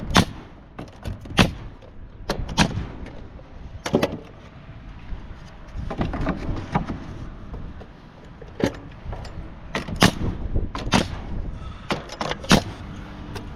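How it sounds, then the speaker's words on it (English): A 16-gauge finish nail gun fires nails into siding corners on a mansion pool house, producing a series of sharp, loud pneumatic snaps spaced irregularly, some in quick pairs, over a low background hum of outdoor ambience. "So I'm taking my finish gun, 16 gauge nails, nailing all the corners."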